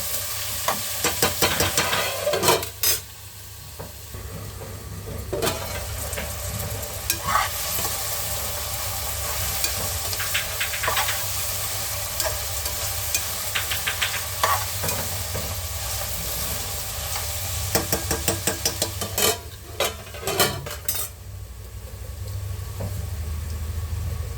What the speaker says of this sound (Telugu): ఉల్లిపాయలు కొద్దిసేపు అలా సిమ్లో వేయగాలి